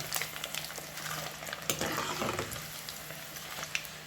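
Garlic tempering for a curry leaf pickle sizzles and crackles steadily in a hot pan, with occasional spits and stirring scrapes, fairly quiet and close, no voices.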